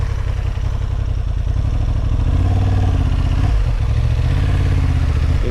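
A Honda Hornet 750 motorcycle engine idles close by in a steady, loud, throbbing rumble, with a brief blip of revs partway through, and no one talks.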